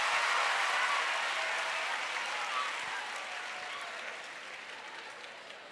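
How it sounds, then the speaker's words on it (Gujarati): An audience at a student counselling programme claps for a student in steady, dense applause that starts strong and slowly fades over several seconds, heard alone without voices. "એકવાર તો આ સ્ટુડન્ટ માટે જોરદાર તાળીઓ હોવી જોઈએ"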